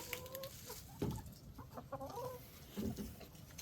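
A backyard flock of chickens clucks in short, scattered bursts close by, the calls soft and uneven against quiet background noise.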